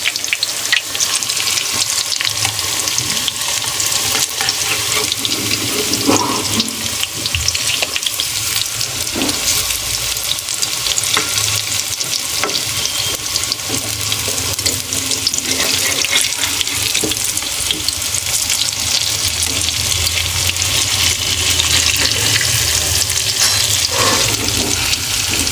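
Drumstick flower fritters sizzle in hot oil in a pan as they are turned over, a continuous loud hiss with occasional soft scraping bumps, no voices.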